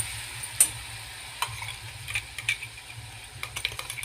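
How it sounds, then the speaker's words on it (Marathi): Chili peppers frying in a pan for an amla thecha relish after the gas is switched off, a soft, fading sizzle with light clicks and taps of stirring, close and quiet. "ही मिरची छान तळल्या गेली"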